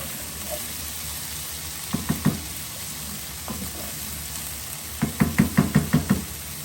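Chopped sweet potato chunks drop one after another into a pan of shrimp curry, landing as a few scattered knocks followed by a quick run of six or seven thuds, close up, over a faint background hiss.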